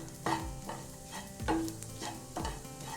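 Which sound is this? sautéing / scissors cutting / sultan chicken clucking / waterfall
sautéing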